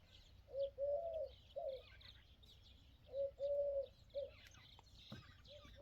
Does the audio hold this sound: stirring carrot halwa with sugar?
no